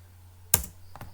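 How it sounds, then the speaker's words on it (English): A single sharp keypress on a computer keyboard, the Enter key struck once close to the microphone, followed by a fainter softer tap, with a steady low electrical hum underneath. "press the enter key in the keyboard."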